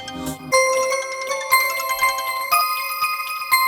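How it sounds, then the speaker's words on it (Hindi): A phone ringtone plays a bright, repeating electronic melody with bell-like tones, loud and close, starting after a brief low thump. "मैम आपका फोन।"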